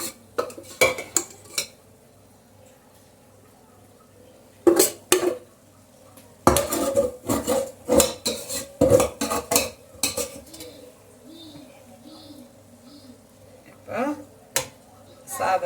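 A second layer of cooked rice goes into a pot for restaurant-style chicken dum biryani, with spoon scrapes and metal clatters coming in irregular bursts, some loud and close, while someone talks in between.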